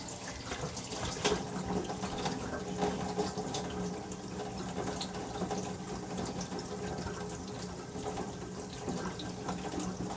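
Tap water runs steadily through a newly installed sink strainer, a constant close hiss and splash of water into the basin for the whole stretch, with no other sounds over it.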